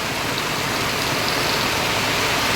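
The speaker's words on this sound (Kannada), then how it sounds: "ಮಳೆ ಮಾತ್ರ ಸಿಕ್ಕಾಪಟ್ಟೆ ಇದೆ" Dense, steady hiss of heavy monsoon rain pouring without pause, close and enveloping, with no voices.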